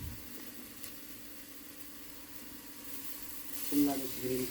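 Asafoetida (hing) dropped into hot oil gives a soft, steady sizzle that swells briefly near the end, with a voice talking over it.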